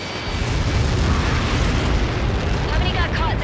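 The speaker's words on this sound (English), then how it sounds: "How many got caught in that explosion?" A huge explosion from a Helios projectile impact in the Ace Combat 7 flight game rumbles as a sustained, loud roar with crackling bursts throughout, with voices talking over it.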